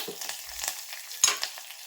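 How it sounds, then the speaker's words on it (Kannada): Mustard seeds dropped into hot oil and ghee for a tempering crackle and sizzle steadily, with a sharper pop or two partway through, close and moderately loud with no talking. "ಎಣ್ಣೆ ತುಪ್ಪ ಕಾದಿದೆ ಈಗ ನಾನು ಸಾಸಿವೆ ಹಾಕೋತಾ ಇದ್ದೀನಿ"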